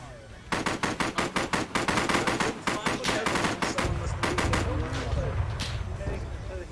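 Machine gun fire in Arma 3 during a World War 1 battle, sharp rhythmic bursts of closely spaced shots, loud and near, pausing briefly before resuming, with a voice talking over the shooting.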